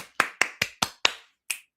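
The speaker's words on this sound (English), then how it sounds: "the house clap" Six crisp, evenly spaced hand claps in a quick rhythm, then a short pause and one final clap, close and fairly quiet with nothing else behind them: a house-music style clap.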